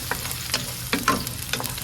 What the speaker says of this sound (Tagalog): igisa na natin yung sibuyas at hayaan natin maluto siya ha